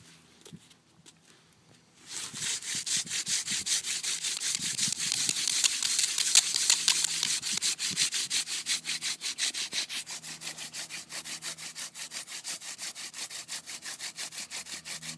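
Steady rapid rubbing of a wooden friction fire drill starts after a brief quiet moment and continues at a fast, even back-and-forth rhythm, fairly close and loud.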